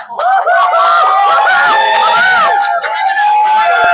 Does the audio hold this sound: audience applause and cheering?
yes